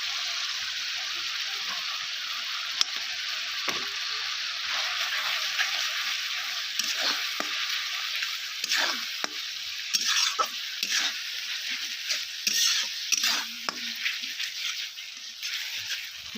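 Spice masala for a mustard and poppy seed paste curry fries and sizzles in a pan under steady stirring, with soft scraping and occasional knocks over a continuous hiss.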